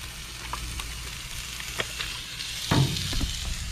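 Pierogies frying in oil on a Blackstone griddle with onions, giving a steady close sizzle and hiss broken by a few sharp pops and spatula scrapes, with no talking.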